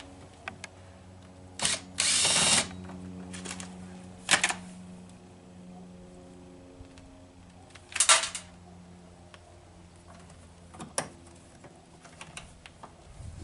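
An electric drill takes screws out of a Mercedes-Benz W123 door panel in short whirring bursts spaced several seconds apart, with quiet clicks and handling noises between them.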